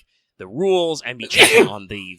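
A single sharp sneeze bursts out in the middle of a person's ongoing speech. It is brief and loud, and the talking carries on right after it.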